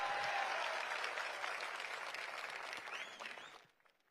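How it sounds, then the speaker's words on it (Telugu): A large crowd at a state police constable appointment ceremony claps in a sustained, dense wave of applause that fades out toward the end. "చేశారు అంటే గట్టిగా చప్పట్లు కూడా చెప్పండి చేశారని."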